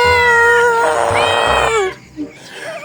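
A cat gives a loud, drawn-out meow close by, then a second short, softer mew after a brief pause.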